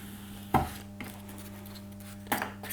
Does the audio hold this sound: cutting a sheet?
yes